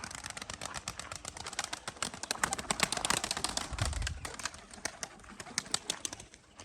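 Pigeons at their coop make soft cooing and shuffling sounds among steady rustles and light taps, fairly faint and nearby, with brief flutters and no speech.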